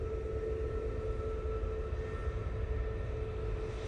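A Ryanair Max airliner begins its takeoff roll at Manchester Airport, heard as a steady, distant broadband roar with a faint whine that holds evenly throughout.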